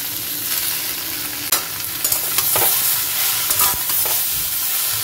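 Eggplant frying in fish oil in a pan, a loud close continuous sizzle punctuated by several sharp scraping and knocking stirs of a spatula, with no voices.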